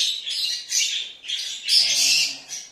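Young birds squawking and chirping insistently during hand-feeding, close and fairly loud in repeated bursts, with no talk over them.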